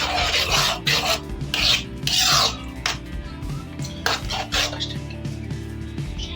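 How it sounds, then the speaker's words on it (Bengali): A spoon scrapes and rasps steadily around a pot of thickening fruit custard, with repeated close rubbing strokes and occasional metallic clinks against the pan. "এটা ঘন ঘন নাড়তে থাকতে হবে, নয়তো লেগে যেতে পারে"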